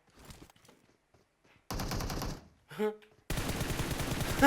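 Automatic and rapid gunfire in the PUBG Mobile battle royale game comes in bursts separated by silence, ending in a long sustained loud volley, with some voices mixed in.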